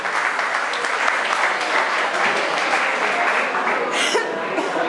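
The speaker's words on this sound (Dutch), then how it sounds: "Applaus voor deze dames." An audience at a prize ceremony for a nature run claps in steady, continuous applause, loud and sustained throughout, with a few faint coughs and murmurs mixed in.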